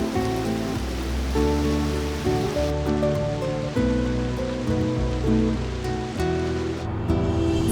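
Steady heavy rain falls outdoors as a loud, continuous wash with a dense patter that never lets up, heard alone without voices.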